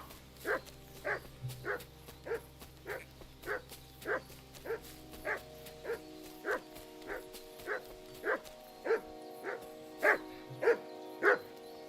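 Mutt, a dog in the video game Kingdom Come: Deliverance 2, gives a steady run of evenly spaced barks, about fifteen in all, over a low, quiet game ambience.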